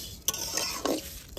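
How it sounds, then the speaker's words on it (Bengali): Vermicelli fried with bay leaves and cracked cardamom is stirred in a pan for kheer, with a few scraping strokes of the spoon over a soft, continuous sizzle. "আর একবার দুবার সামাইটাকে নেড়ে নেব"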